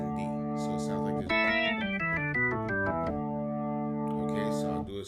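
Organ run played without pedals, gospel-style preacher chords: sustained chord, then a quick descending sequence of notes before settling on a held closing chord, clear and close with no talk.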